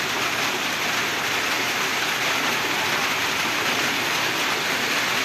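Steady heavy rain pours down outdoors in wet weather, a dense, continuous hiss with no breaks or changes across the whole stretch.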